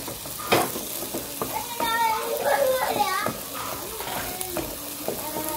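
Egg and vegetables stirred quickly in a frying pan, with scraping and clinking of a utensil over a sizzling bed of frying; children's voices chatter in the background.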